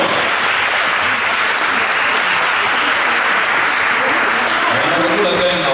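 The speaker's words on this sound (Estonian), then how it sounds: "Nagu kuulete, aplausi ei kustu, seega on publik igati rahul teie tantsuga." An audience claps steadily after a beginners' seniors dance performance in Tartu, a dense, even wash of applause that holds at full strength throughout.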